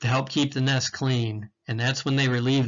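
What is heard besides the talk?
No distinct noise like a dog, phone or traffic.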